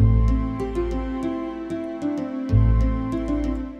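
A flute melody plays over sustained harp and bass in a game or film score arrangement built in Logic, with steady, full-sounding notes changing every half second or so, and no voices.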